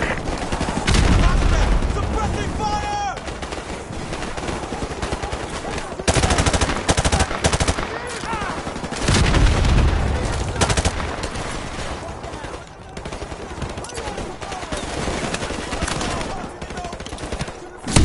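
Suppressing fire rattles through a PS4 shooter, with loud, sustained bursts of automatic gunfire and scattered single shots running nearly nonstop, some bursts up close and others further off.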